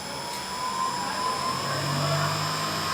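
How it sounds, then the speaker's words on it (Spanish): An electric motor run from a variable frequency drive speeds up toward a set speed, giving a steady, fairly loud whine with a tonal hum and a low tone that climbs late on, with no voices. "El motor va a ir en aceleración hasta alcanzar la velocidad deseada"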